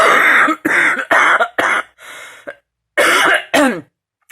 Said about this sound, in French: je vois que la toux n'est pas trop calmée